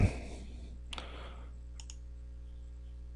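A computer mouse clicking while files are selected: two crisp, quiet clicks about a second apart over a steady background hum, with no talking.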